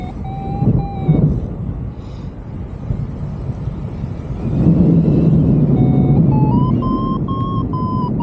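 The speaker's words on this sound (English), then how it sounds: "I know you're hearing beeping" Tonal electronic beeps sound in spaced intervals, held notes that shift in pitch, over a loud low rumble of engine noise, during a paramotor hike-and-fly cross-country flight.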